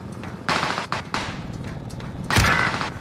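Gunfire in a multiplayer shooter game cracks out in several sharp bursts, with a louder, heavier shot near the end, close and without talk.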